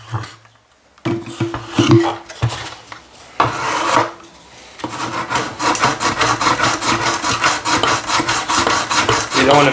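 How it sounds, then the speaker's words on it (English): Sandpaper rasps against wooden planking on a scale model of HMS Endeavour, starting in short scrubbing strokes and then settling into a quick, rhythmic back-and-forth rubbing, close and clear. "So we just need to sand it down a bit and we'll be sorted."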